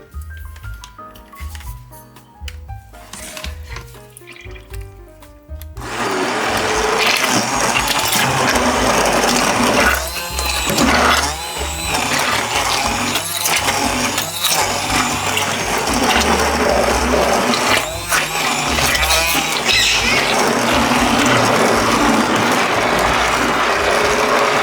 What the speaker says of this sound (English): So I'm going to take my blender and I'm going to blend all of this up.